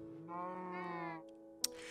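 A single sheep in Minecraft lets out one wavering bleat lasting about a second, close and clear, followed by a brief click.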